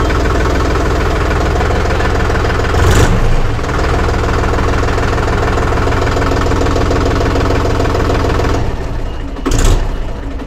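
A Mahindra Yuvo 275 DI 35 hp tractor engine runs loud and close, a steady rough diesel chug throughout with a couple of brief bursts of extra noise, no voices.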